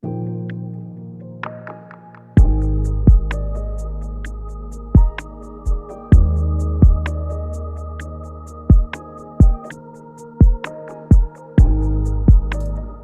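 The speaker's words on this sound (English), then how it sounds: "I also have this nice like big kind of reverby snare clap sound" A music track with a big, roomy snare clap landing on the beats over a sustained low bed, each hit ringing out with a long reverb tail.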